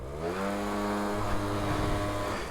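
Gilera DNA 50 scooter revving hard with launch control, its small engine whining up in a rising harmonic pitch and holding at high revs, close and moderately loud with no talking.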